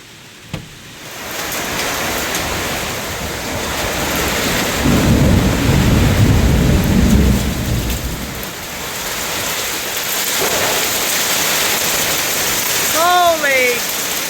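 A storm on a Wheatbelt farm: heavy rain and hail pound down in a loud, steady roar, with a thunder crack at the start and rumbling thunder building through the middle, a voice briefly heard near the end.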